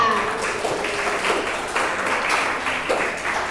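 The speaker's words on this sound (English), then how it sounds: "Please give a big applause to Mumtaza Kiran Ashakla." Audience applause for a speaker at a public-speaking summit, a steady, fairly quiet wash of clapping from a crowd lasting a few seconds, with faint voices mixed underneath.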